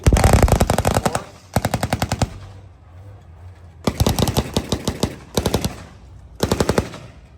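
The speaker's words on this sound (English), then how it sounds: "You heard the Dishka go off." A DShK heavy machine gun fires several loud, rapid bursts at close range during a tank museum battle reenactment at the Aquino Tank Weekend in Oshawa, with short pauses between the clattering volleys.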